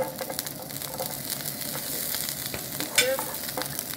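Ginger and garlic stir-fried in a hot wok for a Chinese vegetarian stir fry, a bright steady sizzle with quick scraping stirs, close and without speech.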